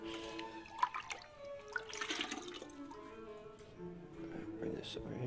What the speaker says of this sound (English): Fill this up with some water.